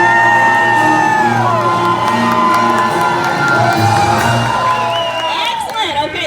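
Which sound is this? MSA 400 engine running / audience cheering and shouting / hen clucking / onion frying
audience cheering and shouting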